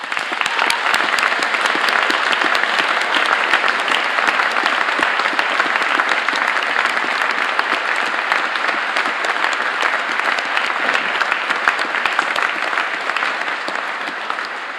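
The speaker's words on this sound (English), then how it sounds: "So let's do so now with a really big round of applause." Sustained, loud applause fills a university graduation ceremony hall at St Andrews, a dense wall of clapping from a large audience that holds steady for the whole stretch.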